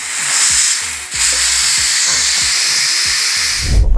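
Steam hisses loudly and steadily from the released vent of a pressure cooker holding carrot kheer, a continuous close roar with faint rhythmic ticking beneath and a clunk at the end.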